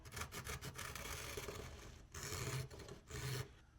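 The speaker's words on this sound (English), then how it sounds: "using some sort of hard edge like this will gouge into that and square that up" A hard edge scrapes along the corner of a 3D-printed resin N-scale 53-foot trailer model, giving repeated short, close rasping strokes in bursts with brief pauses between them.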